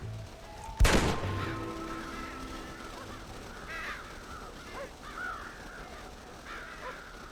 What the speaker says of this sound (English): It's a bunch of birds, bro.